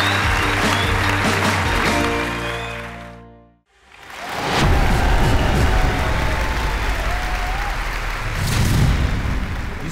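Applause from a talent show audience on Turkish television, first mixed with music that cuts out abruptly, then returning as a dense, loud wash of clapping that continues to the end.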